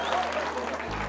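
Applause from schoolchildren during a Rayon Sports football club visit to a school, brief dense clapping with crowd voices, cut off abruptly.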